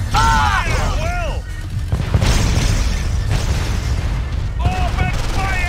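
Gunfire and explosions from the real-time strategy game Red Alert 2 (Yuri's Revenge), with heavy booms and crackling bursts running loud and continuous throughout, mixed with synthetic sweeping tones and clipped unit voice responses.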